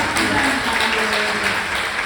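An audience at a book talk on wildflowers and the climate crisis gives a brief, steady round of applause, a close, even wash of clapping with faint tonal sounds underneath.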